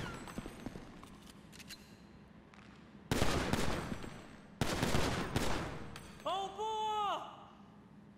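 Gunfire at the shooting range in GTA 5, played in first person: a couple of loud, close bursts of shots after a quieter stretch of range ambience, followed by a ringing chime-like tone, with no one talking.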